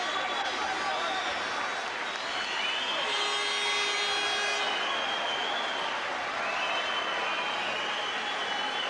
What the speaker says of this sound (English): And listen to this applause.